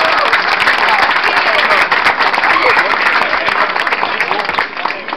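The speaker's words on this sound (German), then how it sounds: "Nach vorne für den Applaus." Loud, dense applause from a crowd at a German Maifest marksmen's club gathering, continuous close clapping sustained throughout with slight unevenness near the end.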